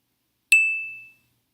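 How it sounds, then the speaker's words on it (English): A single bright ding from a phone notification, sharp onset then a clear ringing tone fading out over about half a second, isolated in silence. "I like that my phone just dinged"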